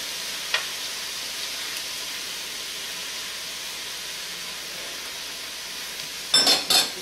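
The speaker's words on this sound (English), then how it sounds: "We're just going to give it a nice stir here." Chicken pieces frying in a skillet, a steady close sizzle and hiss throughout, with a soft stir early on and a few louder scraping knocks near the end.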